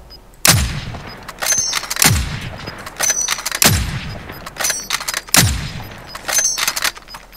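Gunfire in the video game Call of Duty Warzone: four sharp, loud shots spaced roughly a second apart, each trailing off in a booming echo, with faint clicks and small game sounds between them.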